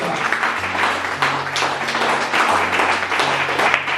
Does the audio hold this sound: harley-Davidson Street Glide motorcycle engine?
no